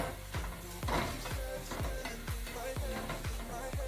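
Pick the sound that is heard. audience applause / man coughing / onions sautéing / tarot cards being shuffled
onions sautéing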